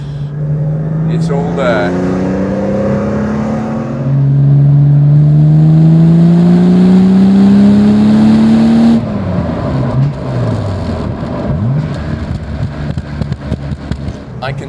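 A classic car engine bored out to a 4.2 to 4.7 litre conversion revs up loud and close, its pitch climbing steadily, then cuts off to a rough idle. Someone speaks briefly under the engine noise.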